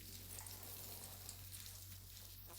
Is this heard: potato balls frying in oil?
yes